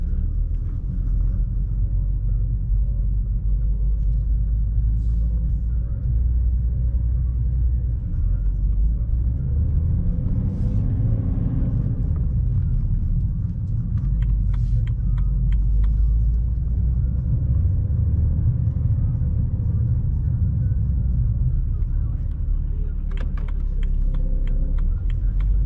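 BMW 325 diesel cruising on the road, a steady low rumble of engine and tyres heard from inside the cabin, with faint clicks and a little background noise.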